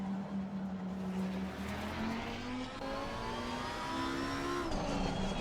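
A Lamborghini Huracan GT3 Evo 2 race car engine howls through upshifts in the racing game Assetto Corsa Competizione at Spa-Francorchamps, pitch climbing steadily and dropping at each gear change, loud and close throughout.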